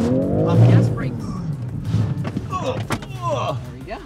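A 2022 BMW G80 M3 Competition xDrive whips through an instant 360-degree spin, its engine roaring and tires squealing across about four seconds, with occupants' voices mixed in over the noise.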